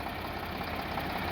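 An Eicher 548 tractor, a 50 horsepower machine, idles steadily nearby with a continuous low mechanical rumble and faint knocking, with no voices over it.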